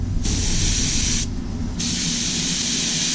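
Aerosol spray paint hissing steadily onto a fishing lure in two bursts with a brief pause between, close and loud, with a low motor-like rumble underneath.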